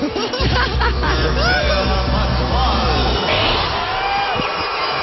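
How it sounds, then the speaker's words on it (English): Volleyball crowd at a DLSU vs ADMU match erupts in a loud, sustained roar of cheers and chatter, full and dense from start to finish with excited voices rising and swirling. "And now the crowd getting into it."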